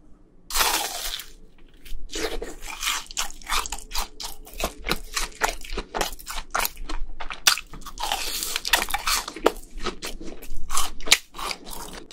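Crunchy BHC cheese balls bitten and chewed up close, sharp brittle crunches repeating in quick bursts with brief pauses between bites, no talking.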